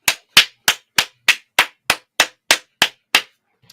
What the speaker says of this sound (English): Clap it up. Give him the church clap.